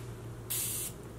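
A single short burst of Morphe setting mist sprays from a pump bottle, a soft hiss lasting under half a second over a faint room hum.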